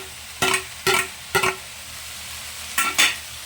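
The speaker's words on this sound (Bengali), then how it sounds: "এখন আমি ভেজে রাখা চিংড়ি মাছ কটা দিয়ে দেবো" Fried shrimp tipped into a hot pan of raw jackfruit curry, giving four short, sharp sizzling bursts in an uneven rhythm, each dying away quickly with near-silence between them.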